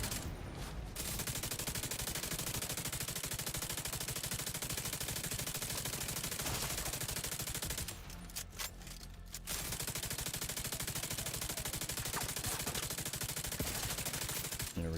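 Gunfire in The Division 2 video game rattles in dense, continuous automatic bursts, loud and sustained across the stretch with a short break midway.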